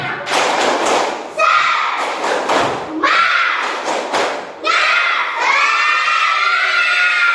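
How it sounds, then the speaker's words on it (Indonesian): Fourth-grade schoolchildren in a classroom perform a spirit-clap chant together, loud bursts of rhythmic clapping and thumping mixed with shouted group chanting in several close, energetic phrases. "kita tepuk semangat sama-sama sebelum pulang."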